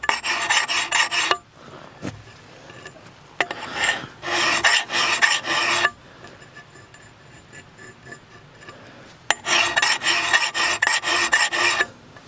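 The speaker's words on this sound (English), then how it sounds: "And now I want to go back to flat filing this." A hand file rasps across the bit of a Husqvarna forest axe in three bursts of rapid, even back-and-forth strokes, close and crisp. Quiet pauses separate the bursts.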